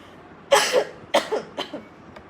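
A single person coughs three times in quick succession. The first two coughs are sharp and close, and the third is slightly softer. No speech is heard.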